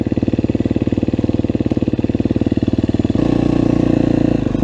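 Close, loud 2019 KTM 250SXF motocross engine chugging at a rhythmic idle, then the throttle opens into a higher, smoother steady rev for the last stretch.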